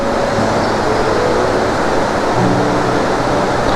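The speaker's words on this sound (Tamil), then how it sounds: "அவ்வளோ தண்ணி ஓடுது அழகா." A stream swollen by monsoon rains rushes along a hill road toward Valparai, producing a loud, steady roar of flowing water that fills the scene without a break and with no talk.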